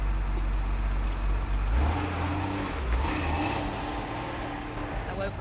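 Nigel's racing car is driven at the Oulton Park circuit, its engine a loud, close, low rumble that shifts pitch partway through as it changes speed.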